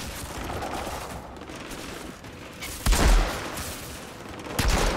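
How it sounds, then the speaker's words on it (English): Assault rifle gunfire in the video game Outriders comes as distant rapid bursts and scattered shots, with a louder volley near the middle and another toward the end over a hissing battle ambience. "they fire with pinpoint accuracy even though they have assault rifles"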